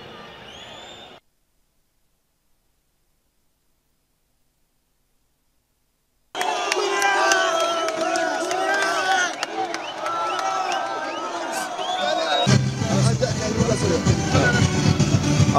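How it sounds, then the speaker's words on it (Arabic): Moroccan football supporters cheer and shout at a match, a dense roaring crowd with whistles and whoops that swells louder toward the end after a brief quiet gap. "كان تشجيع تشجيع كبير من طرف أنصار المغاربة"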